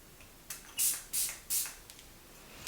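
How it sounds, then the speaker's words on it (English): Several short perfume sprays from bottles of Chanel Allure EDT and Benetton Hot misted onto hands, four quick hissing bursts close up, with faint handling noises between. "I'm gonna spray Allure EDT on my left hand, and then we're gonna spray Benetton Hot on my right hand."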